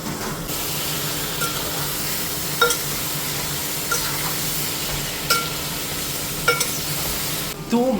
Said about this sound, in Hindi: ये प्याज और लहसुन अदरक का पेस्ट डालने के बाद अब टाइम आ गया है मटन डालने का